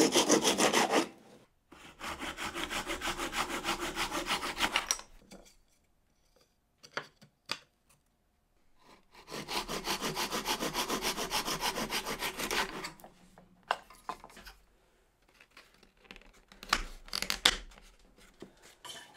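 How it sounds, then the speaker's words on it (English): Small wooden pieces cut by hand with a saw, two long runs of rhythmic back-and-forth strokes separated by a pause, then scattered lighter strokes and taps, close and clear with no talk. "these little bits now I can get cut down into four bits that are going to fit perfectly"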